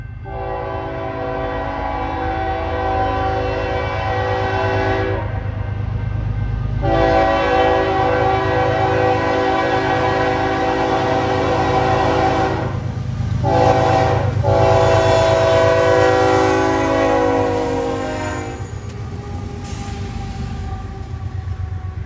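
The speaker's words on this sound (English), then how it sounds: "Our first catch of the day is a northbound Autorack train from Birmingham, Alabama, heading its way to Elwood, Illinois." A northbound autorack freight train traveling from Birmingham, Alabama to Elwood, Illinois passes through Mammoth Spring, Arkansas, its loud multi-chime horn blaring in long repeated blasts over the heavy rumble of rolling cars close by.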